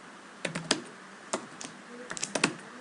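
Close, quiet clicks of a computer keyboard as a Cisco router command is typed, a few short bursts of keystrokes separated by pauses, with no voice over them.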